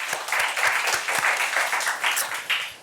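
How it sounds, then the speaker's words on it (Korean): A church congregation applauds in praise, a steady burst of clapping that keeps up for a few seconds at moderate loudness, with no talking over it. "우리 하나님께 다시 한번 영광의 박수 올려드리겠습니다"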